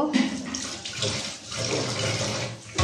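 Tap water runs and splashes steadily in a kitchen sink while mutton is rinsed and cleaned, a continuous close rush with slight changes as the meat moves under the stream.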